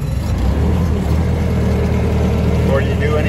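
A Bobcat T550 skid steer's diesel engine runs at a steady, close idle, a continuous low rumble with no break.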